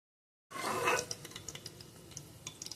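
Cooked okra pieces being scooped from a pan into another bowl, with faint metal-on-metal scrapes and light clinks of a spoon against cookware, close and quiet, following a brief louder scrape at the start.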